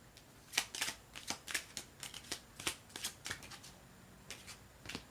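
Tarot cards are shuffled and drawn by hand, giving close, soft papery riffles and flicks in quick irregular bursts throughout, with no talking.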